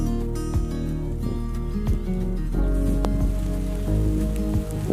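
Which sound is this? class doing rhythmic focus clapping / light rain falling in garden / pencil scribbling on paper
light rain falling in garden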